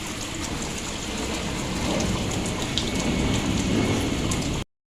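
Heavy rain pours down in a loud, continuous roar during a thunderstorm, with low thunder rumbling beneath the downpour and scattered sharp drops striking nearby surfaces.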